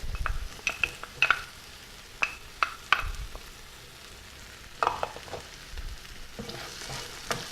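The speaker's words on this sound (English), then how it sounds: "Now that I see my vegetables are softening, I'm going to go ahead and add my peppers. Go ahead and add my garlic." Peppers and garlic sautéing in a pan with softened vegetables for aqua pazza: a soft sizzle punctuated by scattered clinks and scrapes of a utensil stirring against the pan, close and fairly quiet.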